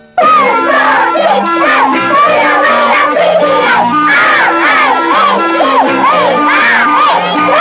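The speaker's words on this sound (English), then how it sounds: "No wonder they've got their own cheer squad" A children's cheer squad at a soccer match for eight-year-old players chants in unison, a loud, rhythmic, high-pitched group cheer with repeating sung phrases that holds steady throughout.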